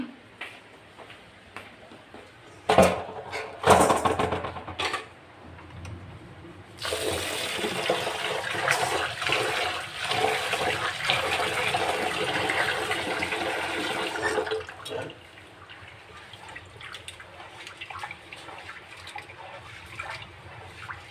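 Rice for khichuri being rubbed and washed in water: a few clattering splashes, then a long stretch of running, sloshing water that stops abruptly, followed by quieter drips and handling.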